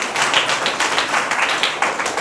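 A church congregation claps in praise, a steady, dense wash of many hands with rhythmic peaks. It sounds fairly loud and close and carries no clear speech.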